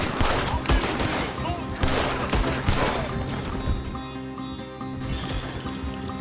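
Rapid gunfire in a Red Dead shootout, with bursts of shots cracking over horse hooves and shouting voices in a busy, chaotic exchange.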